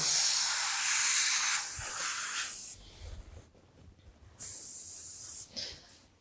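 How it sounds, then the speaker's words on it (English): An airbrush hisses loudly as it sprays colour onto a sculpted pig cake, in bursts that stop and start again, close and alone without talk. "It's good to just keep stopping and checking with airbrushing, because it's quite easy to feel like you're not doing much"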